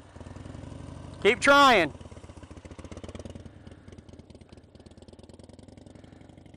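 A street motorcycle idles with a steady, low chugging pulse while a first-time street rider, used to dirt bikes, practises; a brief rev rises midway and voices talk over the engine.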